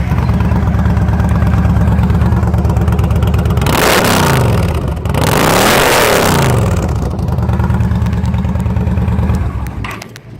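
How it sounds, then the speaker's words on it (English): A 2012 Yamaha Stryker motorcycle engine idles loudly up close, then revs hard twice in quick succession with rising and falling pitch sweeps, settling back to a steady idle before cutting off at the end. "the Yamaha engine sounds really good"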